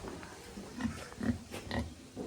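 Piglets on a farm give soft, low grunts in a few brief bursts, close by and fairly quiet against light outdoor background noise.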